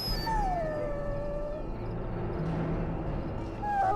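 A dog in Dragon Age: Origins lets out a long, wavering howl that slides downward and fades into a soft whimper, alone over a steady low ambient rumble with no talk.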